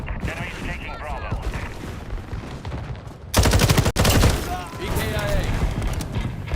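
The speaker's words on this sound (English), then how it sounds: "Active firing outside" Call of Duty Modern Warfare multiplayer firefight, distant rattling shots giving way to a loud, close burst of automatic gunfire, with radio-style game voices speaking throughout.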